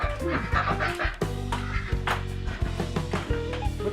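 Ducks on a farm quack loudly and close by, several overlapping calls in rapid clustered bursts that run continuously.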